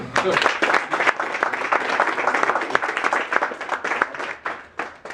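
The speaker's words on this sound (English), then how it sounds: "Let's give them now a round of applause." An audience claps at the grand opening of a campus game room, a burst of fairly close applause that swells early, holds for several seconds and then thins into scattered claps.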